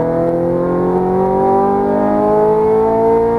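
A Ferrari 430 Scuderia's engine pulls hard on a race track in Las Vegas, a loud, continuous howl rising steadily in pitch as it accelerates, with no talk over it.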